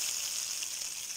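Mustard seeds and cumin sizzle in hot oil, cooking for papaya thoran, a steady faint high hiss lasting about a second with no talking.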